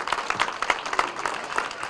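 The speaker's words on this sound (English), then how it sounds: "Let's give them a big round of applause for coming if they're out there with us." A modest audience claps for the school ribbon cutting ceremony at Taylor Elementary, giving steady, fairly soft applause with no talk over it.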